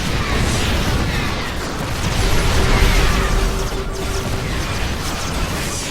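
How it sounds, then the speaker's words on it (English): Siege tank fire in a StarCraft match: dense, continuous mechanical blasts and crackling explosions layered over busy battle noise, loud and unbroken throughout. "Running into some tank fire"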